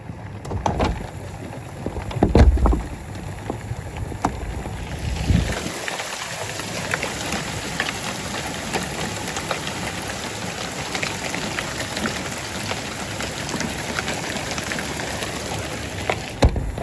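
Penny-size hail and heavy rain pour down during a night severe thunderstorm, a dense steady hiss and patter with scattered louder impacts, loud and continuous throughout.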